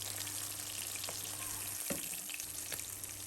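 Hilsa fish fries in oil, giving a steady, soft sizzle throughout, with one brief scrape or knock of a utensil in the pan near the middle.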